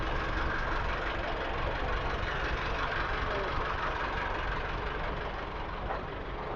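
A Nuffield tractor with a Bray four-wheel-drive conversion idles at a vintage tractor auction, a steady, rumbling diesel drone that holds level throughout with a faint murmur of people in the background.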